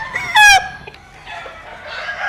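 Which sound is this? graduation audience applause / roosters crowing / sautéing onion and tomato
roosters crowing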